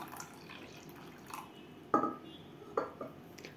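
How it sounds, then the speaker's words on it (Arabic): Cold water poured onto dissolved jelly and sugar makes a couple of short splashing gushes against quiet kitchen background noise. "هننزل بقى بنص كوبايه ميه ساقعه"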